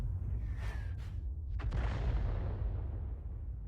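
A tank artillery shell fired in the World of Tanks video game from a Lorraine 155 mle.51, a heavy booming blast with a sharp crack that rolls into a long rumbling decay over steady low engine drone.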